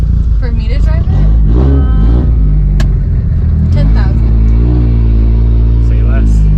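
A straight-piped Mitsubishi Evo 8 making about 700 wheel horsepower idles and rumbles up close, its deep steady drone rising in brief revs while people talk over it.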